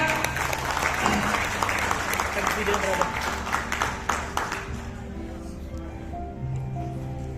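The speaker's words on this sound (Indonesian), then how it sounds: "Tepuk tangan dulu buat mereka" An audience at a business success-sharing event applauds loudly and densely for several seconds before the clapping fades out, leaving a low room hum and some background talk.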